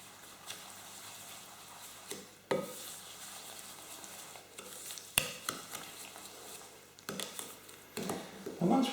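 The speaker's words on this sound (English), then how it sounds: "Now let's just again, just sort of lightly mix this really." A wooden spoon lightly mixes sugar and vanilla extract in a bowl for carrot cake batter, making soft, quiet scraping strokes with a few sharper knocks against the bowl.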